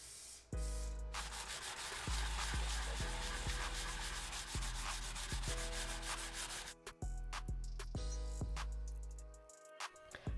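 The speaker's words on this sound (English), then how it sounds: "followed by another round of sanding." FRP rear bumper extension parts for a Nissan R34 are sanded by hand, a close, continuous scratchy rubbing in quick back-and-forth strokes that runs for several seconds, pauses briefly, then resumes.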